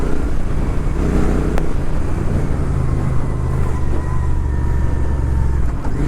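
A Royal Enfield Interceptor 650 fitted with a PowerRage full exhaust system runs steadily while being ridden, its low, even engine drone and exhaust note holding constant and close throughout with a faint wind wash on top.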